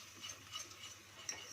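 Flour being stirred quickly in a pan, making faint, soft scraping and ticking sounds with no voices.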